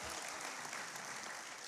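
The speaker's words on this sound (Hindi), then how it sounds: "एक बार इनके सम्मान में ताली बजा दीजिए।" Audience applause at a Republic Day poetry gathering (kavi sammelan) at Lal Qila, a dense, steady wash of clapping that fills the whole short stretch at even loudness with no voices over it.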